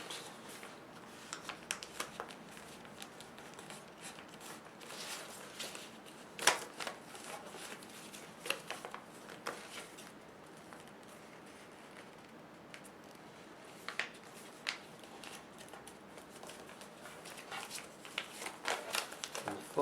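Thick paper being folded and creased by hand into a bird boomerang, with soft crinkling and sharp pressing clicks scattered through a quiet, steady stretch, close and fairly faint.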